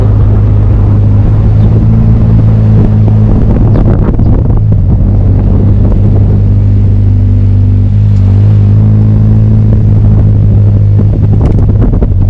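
Rewaco trike engine exhaust heard while riding, a loud continuous low throbbing drone with wind buffeting the microphone, rising and easing with throttle changes throughout.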